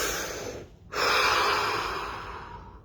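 A deep breath drawn in close up, a brief inhale after a short pause, followed by a long, steady airy rush of breathing that slowly fades, with no talking.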